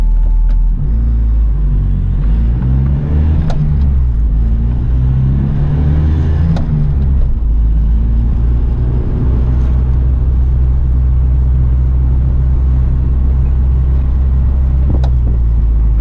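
A 1983 Honda Acty Street L kei truck's small engine drones steadily while driving, with a loud, close low rumble and a brief rise in revs early on, no talking.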